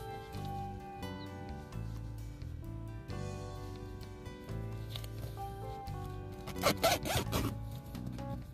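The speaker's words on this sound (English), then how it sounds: "It's zipped in on both sides." Zipper on a wireless seat cover for a Ford F-150 truck being zipped into place, heard as a quick close rasping zip burst after a stretch of quiet handling and rustling.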